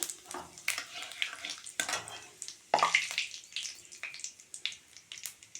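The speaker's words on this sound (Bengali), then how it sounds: "তেলটা গরম হয়ে গেছে আমি দিয়ে দিচ্ছি জিরে আর তেজপাতা" Cumin seeds and bay leaves dropped into hot oil in a pan, giving soft crackling and a brief sizzle with light stirring scrapes, faint and close.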